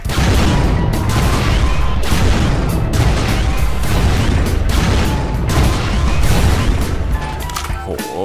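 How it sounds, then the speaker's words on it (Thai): Repeated booming gunfire from a shotgun-like crafted weapon in Minecraft, loud close blasts fired in a steady rapid series that fills the whole stretch with dense crashing noise. "อารมณ์เหมือนปืนลูกซองนะครับปืนนี"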